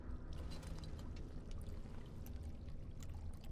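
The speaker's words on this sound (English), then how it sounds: "Dump the water in the jug back into the pool." Water dumped from an earthen jug back into a pool in Dragon Age: Origins, a steady low gushing pour, faint and continuous without pause.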